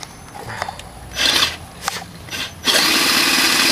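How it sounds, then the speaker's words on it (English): A power drill with a half-inch bit whirs in short bursts, then runs steadily as the bit bites in, loud and close with scraping and rasping. "The biggest drill bit we have,"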